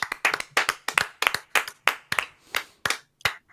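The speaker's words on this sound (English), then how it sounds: "I'm going to give a wee clap for everybody who managed to help us get to that" A lone person claps about a dozen times in an uneven rhythm, each clap sharp and close with brief gaps between them, and no voices.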